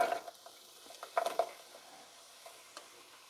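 Food sautéing in a pot of chicken noodle soup, a soft steady sizzle with scattered stirring clinks and scrapes, fairly quiet and close, no voices.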